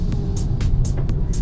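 A turbocharged Skoda Octavia RS engine on a hill road gives a steady low rumble, broken by several short, sharper bursts as it pulls.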